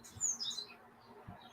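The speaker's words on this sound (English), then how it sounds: "the birds I hear chirping as they awaken to the morning" Birds waking in the morning give a few quick, thin, high chirps in a short burst near the start, then fall quiet against soft background hush.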